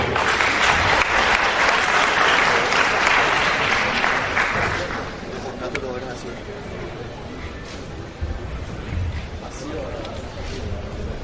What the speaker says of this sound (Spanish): Lo recibimos con un fuerte aplauso, por favor